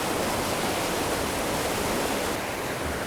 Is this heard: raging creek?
yes